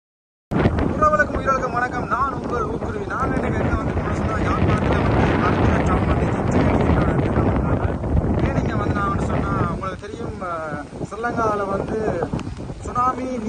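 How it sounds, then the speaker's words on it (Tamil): Heavy, roaring rush of large surf and strong wind on the Point Pedro coast in Jaffna, broad and continuous, with strong gusts buffeting the microphone throughout. "கூடவான அலை வந்து பெரிய அலை வந்து இப்படி அடிச்சிட்டு இருக்கு"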